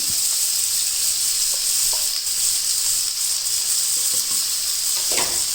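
Onion, green chili, garlic and ginger fry in a pan with cumin, giving a steady, close sizzle with light stirring clatter near the end and no talking.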